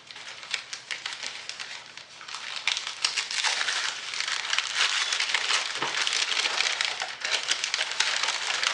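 Plastic packaging is torn and crinkled off a glass bottle of sandalwood rose body lotion, a continuous close crackling and rustling that runs steadily throughout without speech.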